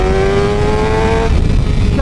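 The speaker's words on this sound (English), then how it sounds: "Love the way this bike accelerates now." A Suzuki GSX-R 750 motorcycle fitted with a new 16-tooth sprocket accelerates hard on a track, its loud engine rising in a strong steady whine before the note breaks and shifts near the end.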